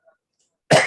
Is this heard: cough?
yes